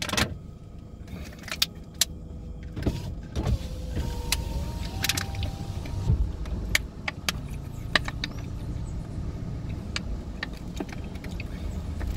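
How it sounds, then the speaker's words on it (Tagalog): Road traffic in Tunapuna, cars stuck in unending traffic, with a steady close vehicle drone, a whirring power window and scattered clicks and knocks, no talking. "Ay, walang katapusan na traffic."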